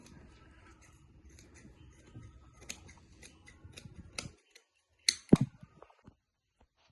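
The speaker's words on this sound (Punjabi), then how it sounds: "ਇਸ ਤਰ੍ਹਾਂ ਹੁਣ ਇਹਦੀ ਕਟਿੰਗ ਹੋਊਗੀ ਨੀਚੇ ਤੱਕ ਆਪਾਂ ਇਹਨੂੰ ਕੱਟ ਦੇਣਾ" Scissors cutting lehenga fabric in a tailoring boutique, giving a series of soft close snips and rustles followed by a few sharper, louder cuts near the end.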